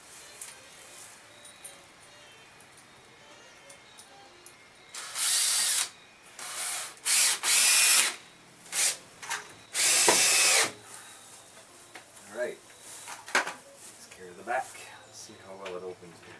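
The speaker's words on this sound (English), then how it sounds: "Clamp it in place, get two screws in the corners, and then square everything up and put the rest of the screws in." A power drill drives screws into the wooden frame of a chicken coop, making several short whirring bursts of varying length between quieter handling noises, with a person talking at times.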